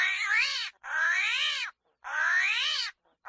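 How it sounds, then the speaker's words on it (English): A New York City alley cat yowling in three long, drawn-out meows with short gaps between them, loud and close, with no other sounds around. "That is a New York City alley cat."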